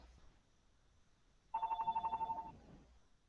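A telephone rings once in a steady electronic trill lasting about a second, sharp and fairly close, rising out of a quiet room with low background murmur.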